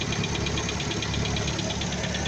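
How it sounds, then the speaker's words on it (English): An old Land Rover engine runs on old oil with a fresh distributor cap and plugs, idling in a steady, fast rhythmic chug with a faint ticking knock, close and continuous. "I've started him on the old oil because I didn't want to drain that out before the engine was up to temperature."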